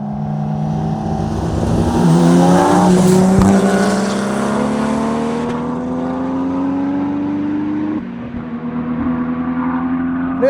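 A Nissan Skyline R33 and a BMW 330i drag race side by side, their engines revving hard and climbing through the gears. The loud, rising engine roar shifts partway through and stays close for the whole run.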